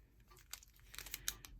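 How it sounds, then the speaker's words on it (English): Parchment paper crinkles in a short, quiet run of crisp crackles and rustles, close by, growing a little busier toward the end while a shaker tea bag craft is handled. "This is parchment paper."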